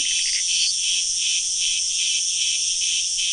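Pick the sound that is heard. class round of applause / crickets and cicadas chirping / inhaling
crickets and cicadas chirping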